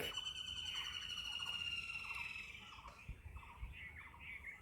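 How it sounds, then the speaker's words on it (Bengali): Birds call faintly by a quiet river, the Sonai flowing from Mizoram in Assam, with a thin sustained whistle-like tone and scattered chirps over soft ambient noise. "পাখির ডাক"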